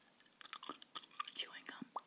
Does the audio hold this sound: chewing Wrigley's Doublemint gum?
yes